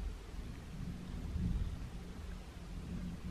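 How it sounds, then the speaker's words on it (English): A low, rolling rumble of distant thunder swelling and fading over steady rain hiss. "Oh, it's thundering."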